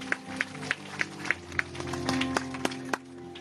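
Church congregation clapping in rhythm, regular sharp hand claps roughly three per second, close and fairly loud over a sustained musical drone, with a brief voice underneath.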